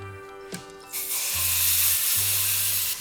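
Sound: ham sizzling as it fries in oil in a pan

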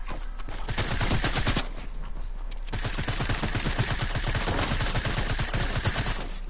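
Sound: gunfire in a video game

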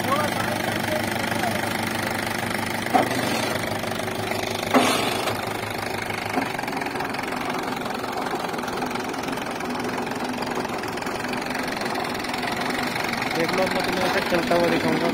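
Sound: tractor diesel engine idling

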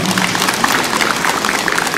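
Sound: audience applause at opening ceremony

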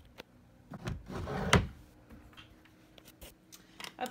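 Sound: drawer being opened

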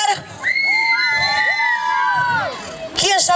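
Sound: audience shouting

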